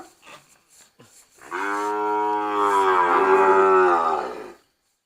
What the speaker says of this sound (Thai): เป็นวัวโครงสร้างเล็กนะครับ เป็นวัวระยะสั้นนะครับ